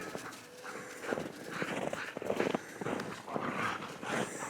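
A dog moves around close by in the morning, with scrabbling paws and clicking steps on a hard floor, brief panting and shuffling bursts coming and going throughout.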